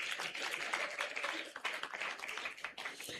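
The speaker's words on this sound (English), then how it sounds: "Please, let's clap." An audience at a pharmacy conference opening ceremony applauds, steady dense clapping heard faintly from a distance with no pauses.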